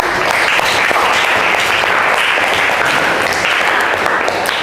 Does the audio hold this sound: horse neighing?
no